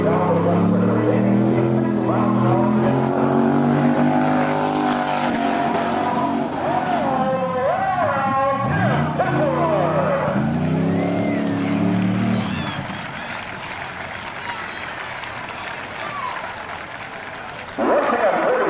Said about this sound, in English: Right now he's about to show you his mastery over an automobile.